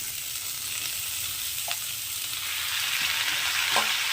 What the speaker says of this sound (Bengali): এই পর্যায়ে আমি ঝিঙেগুলোকে এর মধ্যে দিয়ে ভেজে নেব